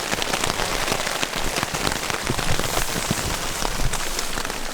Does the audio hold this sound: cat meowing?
no